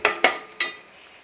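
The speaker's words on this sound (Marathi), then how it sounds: "टोमॅटो आणि कोथिंबीरची पेस्ट केलेली आहे. हे चांगलं मी परतून घेते." Tomato and coriander paste sautéed in a pan for a mutton dish, with three sharp stirring scrapes and spatters that fade into a faint sizzle.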